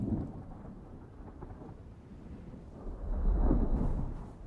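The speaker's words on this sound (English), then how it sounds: "Oh no, storm." Thunderstorm in the Dune: Awakening video game, with deep rolling thunder that swells and rumbles over a steady hiss of rain, loud and close, with no voice.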